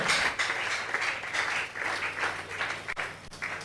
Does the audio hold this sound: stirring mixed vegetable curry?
no